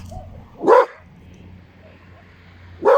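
Dogs bark outdoors at sunset, two loud single barks about two seconds apart over a quiet low background hum.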